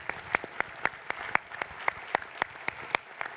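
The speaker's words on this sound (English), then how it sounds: "I want to clap that" A single person clapping slowly and evenly at a summit on girls' sports, about a dozen crisp, faint claps in steady rhythm.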